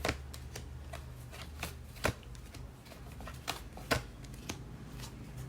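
Tarot cards are shuffled at close range for a reading, giving a series of crisp papery riffles and flicks at an uneven pace. Each burst is fairly loud against a quiet low background hum.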